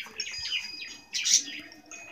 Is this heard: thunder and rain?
no